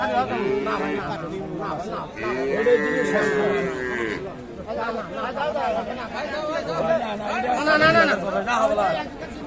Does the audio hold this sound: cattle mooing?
yes